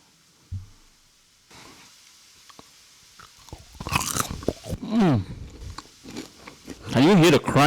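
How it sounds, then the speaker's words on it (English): Crispy fried lemon chicken being bitten and chewed, with a crunchy bite and crackly chewing close up, mixed with voices and vocal sounds toward the end. "Can you hear the crunchiness?"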